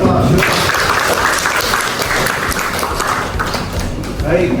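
Classroom audience applauding after a group presentation, a dense, steady clatter of many hands clapping for several seconds with voices mixed in.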